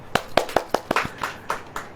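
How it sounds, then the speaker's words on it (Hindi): A congregation at a church gathering claps in a steady, evenly spaced rhythm, about four sharp claps per second, close and fairly crisp with little else beneath. "ताली हो जाइए"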